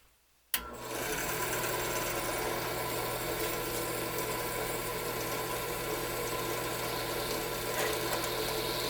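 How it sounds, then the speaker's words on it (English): A power drill starts abruptly and then runs steadily at a constant whine for several seconds while drilling through a gun stock, close and loud, with no talking. "So when I drill, I'm going to be basically holding here, line everything up, and then drill right through."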